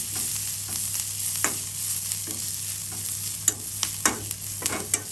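An egg dish base with salt, turmeric and Kashmiri chili powder is sautéed in a pan: a steady close sizzle with soft scraping stirs, then a few sharper spoon taps near the end.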